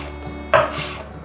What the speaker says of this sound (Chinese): 换一个方向，把番茄切成小丁